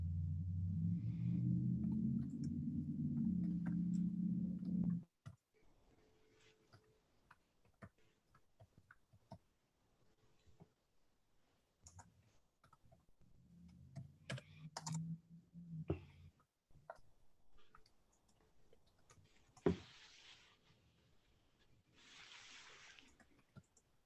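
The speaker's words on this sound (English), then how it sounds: "John, can we get some music when Eric's typing stuff so it like takes up the silence?" A computer keyboard is typed on in a quiet meeting room, with sparse, faint clicks scattered over a near-silent background after a louder stretch with voices at the start.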